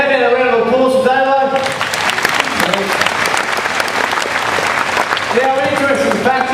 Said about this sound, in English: How about a round of applause for Damo?